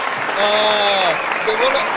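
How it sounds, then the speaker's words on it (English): Short applause greets a guest on a podcast, clapping mixed with voices calling out over it, brief and close, lasting about two seconds. "Give him a round of applause out here"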